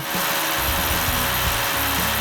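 A pneumatic air hammer with a chisel bit pounds on a seized ball joint of a V8 BMW X5, a loud, rapid mechanical rattle that runs continuously with uneven metallic knocks and no speech.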